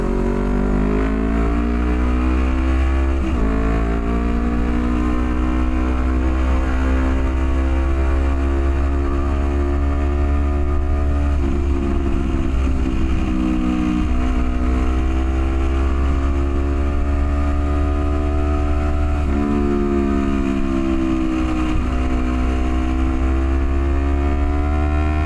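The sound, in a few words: motorcycle riding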